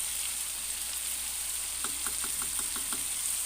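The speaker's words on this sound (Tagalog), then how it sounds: "Ilalagay na natin yung alamang natin." Shrimp paste (alamang) added to pork and tomatoes frying in a pan: a steady hiss of frying, then a quick run of light knocks or taps in the second half.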